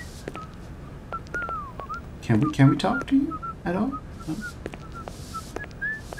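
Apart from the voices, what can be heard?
character whistling in the video game Syberia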